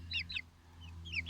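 Chickens, including a rooster, let out a few soft, high clucks in two quick pairs over a low steady hum, faint and close.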